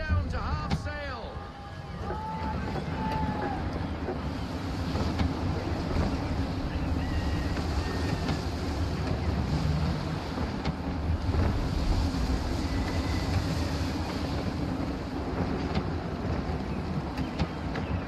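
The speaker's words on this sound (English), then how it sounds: "Wind looks to be shifting. Stay alert, Connor. Gusty winds can be difficult to manage." Gusty wind buffeting a sailing ship at sea in Assassin's Creed 3, a continuous rushing roar with water wash and creaking, while voices talk over it throughout.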